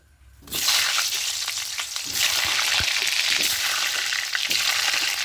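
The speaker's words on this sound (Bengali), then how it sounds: "এখানে কড়াই সরষে তেল দিয়ে দিয়েছি এবার এখানে আলু কেটে রেখেছি আলুগুলো প্রথমে ভেজে নেব" Cut potatoes frying in mustard oil in a wok, a steady loud sizzle that swells in after a brief quiet start and holds continuously with faint stirring scrapes.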